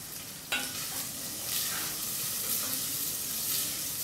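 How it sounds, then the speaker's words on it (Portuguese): Bacon pieces fry crisp in a pan for a Brazilian rice dish, giving a bright hissing sizzle that swells suddenly at the start and then holds steady with slight stirring surges. "Vou deixar o bacon bem fritinho"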